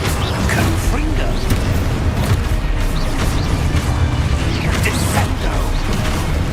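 The Confringo spell in the video game Hogwarts Legacy fires amid dense, continuous magical blasts, crackles and rumbling impacts, with a few sharper bursts.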